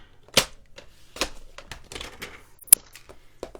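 Small snips and clicks of cutting a tiny piece about 2 by 3 centimetres, a few sharp close cuts with quiet gaps between, one crisp higher click near the end.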